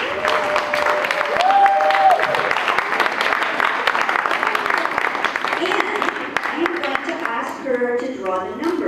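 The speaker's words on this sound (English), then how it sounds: "give her a nice big round of applause, please." Middle school audience clapping at a family fun night in a school hall, a dense sustained round of applause filling the room for several seconds while a voice speaks over it and then a speaker resumes.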